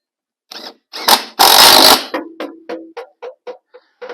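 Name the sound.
screwing the back panel in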